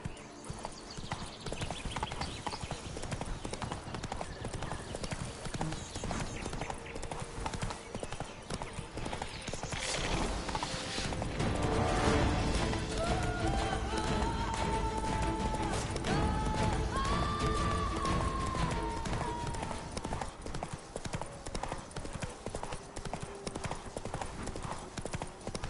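Horse hooves clip-clopping at a steady gallop in The Witcher 3: Wild Hunt, Blood and Wine, running continuously and loud throughout with in-game music and effects layered beneath.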